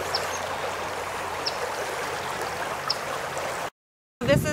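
Water runs steadily from an agricultural tile drain, a broad, even outdoor rushing at close range that continues unbroken before a short cut and a louder burst at the end.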